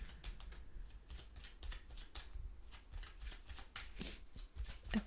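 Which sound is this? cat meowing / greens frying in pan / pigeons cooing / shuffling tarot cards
shuffling tarot cards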